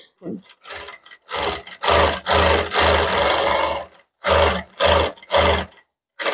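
A sewing machine stitches along marked lines on fabric in a beginner's lesson, loud close bursts of rapid stitching separated by short pauses, some runs longer than others.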